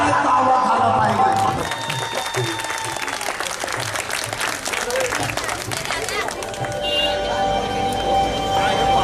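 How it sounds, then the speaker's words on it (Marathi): Audience at a live Bhim geet concert in Kopri, Thane, clapping in a loud, dense wash that continues throughout. "म्हणून टाळ्यांचा आवाज झाला पाहिजे"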